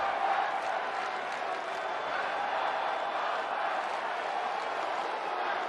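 Capacity crowd of 40,362 at Petco Park for a night baseball game between the San Diego Padres and Cincinnati Reds: a steady, dense roar of murmuring fans that fills the whole stretch without pause.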